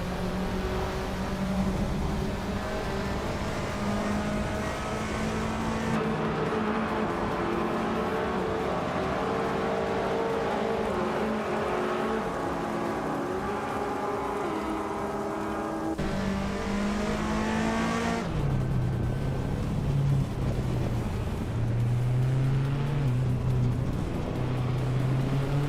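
Lancia Delta S4 Stradale engine in a racing game drones steadily and loudly throughout, with rising and falling revs and abrupt gear-shift drops in pitch.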